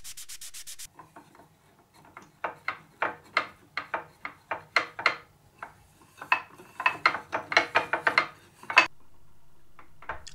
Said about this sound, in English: It's time for sanding.